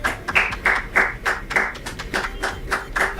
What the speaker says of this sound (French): Allez, applaudissez pour elle.